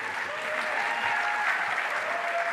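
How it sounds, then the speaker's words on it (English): A crowd claps steadily and loudly throughout, a dense, continuous wash of applause. "welcomed with thunderous applause"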